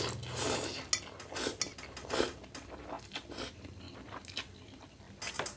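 Close bites and crunching on the crispy skin topping of frozen chicken noodles, with soft chewing, a few clinks of cutlery against a bowl and quiet gaps between bites.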